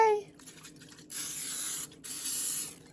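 Two bursts of cooking spray hiss onto a baking dish for a New York crumb cake, the first about a second long and the second slightly shorter, loud and close with a short pause between them.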